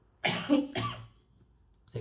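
A woman coughs twice in quick succession, close and clear in a quiet room, then starts speaking briefly after a pause.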